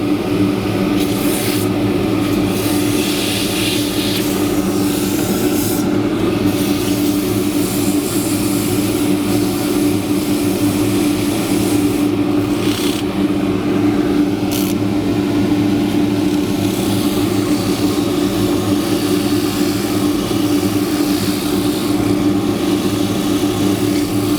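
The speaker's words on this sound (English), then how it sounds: "We'll just sand that now. This is with 180 grit, yellow." Steady, loud whirring drone of a wood lathe spinning a scrap-wood spatula while 180 grit sandpaper is held to it, an unbroken, even hum with faint scratchy texture running throughout, no talk.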